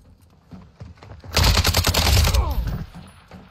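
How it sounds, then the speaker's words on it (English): Rapid automatic gunfire from a shooting video game erupts loudly for about a second and a half of dense bursts, tailing off into scattered shots, with brief voices before and after. "Shot him in the chest, neck, and head."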